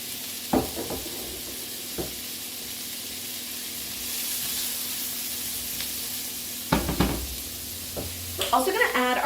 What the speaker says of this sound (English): Butter's melted. We're gonna get these veggies in.